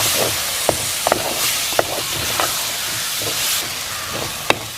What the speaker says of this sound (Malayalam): 2 തക്കാളി ഇങ്ങനെ ചെറുതായിട്ട് അരിഞ്ഞത് ഇതിലേക്കിടാം